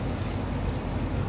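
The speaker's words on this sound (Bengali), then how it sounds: "প্রচুর বৃষ্টি বাহিরে" Dense, steady hiss of heavy rain, continuous and loud, with no voices or other distinct sounds.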